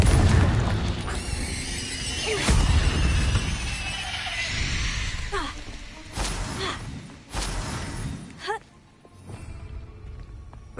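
In the Hogwarts Legacy video game, Confringo fire spells burst into booming explosions with whooshes and thuds, several loud impacts spaced across a busy combat soundscape that quiets near the end.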